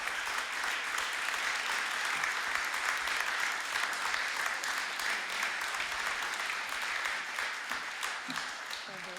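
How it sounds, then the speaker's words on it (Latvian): Sustained applause from an audience at an indoor thank-you ceremony for a volunteer clean-up campaign, dense steady clapping filling the whole stretch at even loudness. "Aplausi turpināt."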